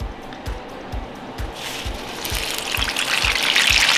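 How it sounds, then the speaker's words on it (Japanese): Rested karaage chicken pieces slide into deep-frying oil heated slightly above 180°C, setting off a steady hiss and bubbling that swells louder over a few seconds, with soft rhythmic low thumps running underneath. "じゃあそこにね先ほどの休ました唐揚げを入れていきます"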